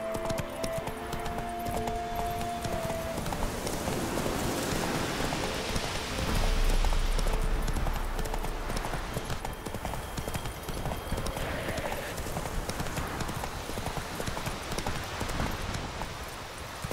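Horse hooves gallop steadily in The Witcher 3, a continuous rapid clip-clop on a road with a rain-like wash behind it, loud and close throughout with a brief swell midway.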